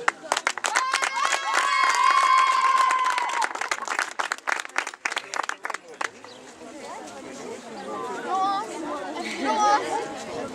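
An audience at a show-jumping competition in Saint-Lô applauds the riders, a burst of rapid clapping at first, then crowd chatter and voices as the clapping fades.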